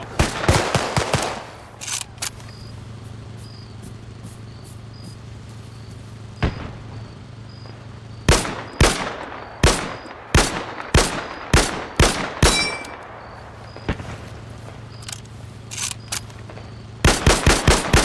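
Rapid bursts of World War II era rifle and machine-gun fire in the Arma 3 Spearhead 1944 game, loud sharp cracks in irregular clusters over a low steady hum, with long quiet gaps between volleys.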